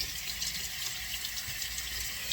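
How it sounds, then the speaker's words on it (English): Makeup sponges are rinsed and scrubbed by hand under hot running tap water, giving a steady splashing water flow with faint rubbing, close and moderately quiet. "then you're just going to run them under hot water and scrub them with your hands like so."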